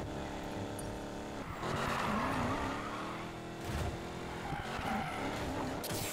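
Drag car racing in Need for Speed Payback, a loud revving engine whining up and down through gears with tire squeal and skidding, steady and close throughout.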